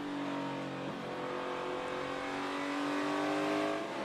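NASCAR Cup Series race car engines roar steadily around the track, a loud sustained whine that swells slightly near the end.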